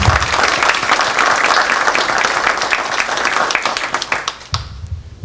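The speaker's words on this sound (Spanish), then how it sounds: "Un aplauso, por favor." Loud, sustained audience applause at a petroleum engineering lecture in Peru, dense clapping that thins out near the end into a few scattered claps.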